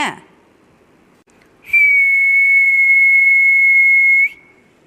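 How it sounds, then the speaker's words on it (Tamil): A pressure cooker whistle during home cooking lets out one loud, sustained shrill blast lasting about two and a half seconds, then stops, with faint background noise before and after. "வருது வருது வருது விசிலு வருது வருது விசிலு விசிலு விசிலு போடு விசிலு"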